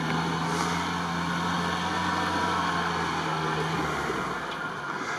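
A Zhiguli-type engine in an off-road Niva-class car driving through deep sand, a steady droning hum running continuously at moderate distance, with no talk over it.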